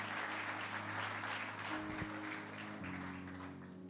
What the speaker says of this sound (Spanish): ¿Cuánto le dan un aplauso al que vive?